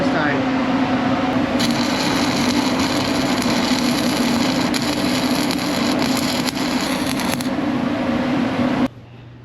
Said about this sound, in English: Here's a little bit of arc welder this time.